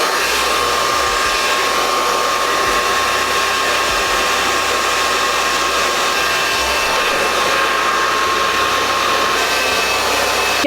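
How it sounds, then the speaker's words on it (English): A hair dryer blows steadily and loudly at close range while hair is dried, a constant unbroken whoosh with a thin whine and no pauses. "I'm actually just gonna go ahead and pretty much blow dry all of my hair"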